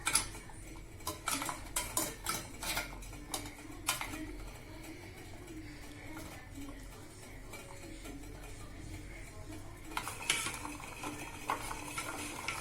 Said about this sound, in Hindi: इसमें डार्क चॉकलेट मिलाइए और अच्छे से मेल्ट कीजिए चॉकलेट को।